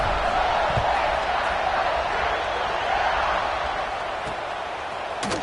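Steady buzzing roar of a packed Ohio State football stadium crowd before a kickoff, loud and continuous with a few brief louder bursts near the end.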